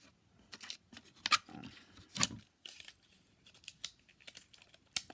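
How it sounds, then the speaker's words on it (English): Tape pulled and pressed down to hold a paper template onto a wooden string-art board, heard as several short, sharp tearing and crinkling bursts with quiet gaps between them, close by and without talk. "And then what I do is that I just tape it down."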